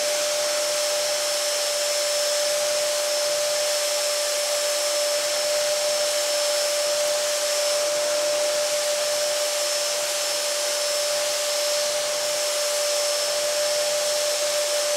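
A vacuum cleaner run over a mattress drones continuously and loudly with a steady high whine, holding an even pitch throughout with no talking.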